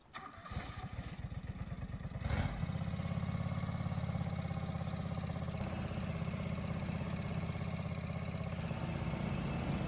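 A Craftsman lawn mower with a mulching deck in the video game Farming Simulator 25 cranks with a rapid starter chatter, then catches and settles into a steady, close, buzzing idle that runs on without a break.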